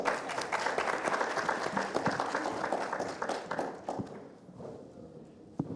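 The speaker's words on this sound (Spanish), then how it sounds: "ustedes me les dan un aplauso, por favor" Audience applause at a regional panel discussion on open science: dense, sustained clapping from a seated crowd that stays steady for several seconds, then thins and fades toward the end.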